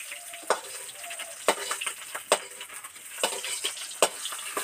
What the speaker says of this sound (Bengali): কড়া থেকে এগুলো মাছগুলো উঠিয়ে নিচ্ছি।